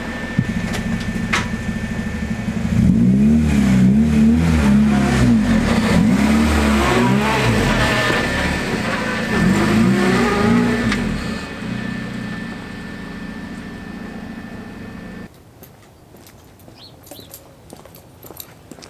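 A car engine revs up and down several times as it moves off, loud and close, then drops away to quiet near the end.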